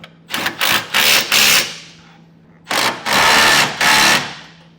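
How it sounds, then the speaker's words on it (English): An impact wrench with a 3/4 inch socket snugs down hitch bolts on the side plates and cross members of a B&W underbed gooseneck hitch in a 2023 Chevrolet Silverado, giving two loud, close bursts of rapid hammering separated by a pause. "we want to snug down now this hardware that's attaching the side plates to the cross members. So it's a 3/4 inch socket."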